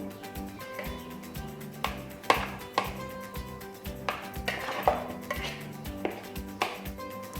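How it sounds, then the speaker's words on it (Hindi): Boiled potatoes being cut into small pieces with a knife, a string of irregular close chops and knocks against a board over soft background music. "किसी छुरी की मदद से छोटे छोटे पीसेस में आप कर लें"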